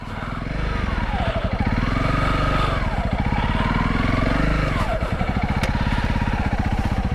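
A new motorcycle ridden along a muddy green lane, its engine chugging steadily close up with rising and falling revs as the rider eases through the slippery ground, wind buffeting throughout.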